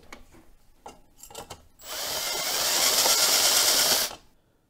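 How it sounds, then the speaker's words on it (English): A hand drill deburrs freshly drilled holes in a camera boom bracket: a few scraping taps and then a loud, steady whine of about two seconds that cuts off abruptly, with no speech. "I'm going to flip it over and deburr it just with a hand drill"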